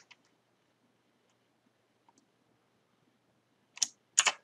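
Fingers tap a computer keyboard as text is typed: a few faint isolated clicks, then two short, close bursts of keystrokes near the end, with no voices.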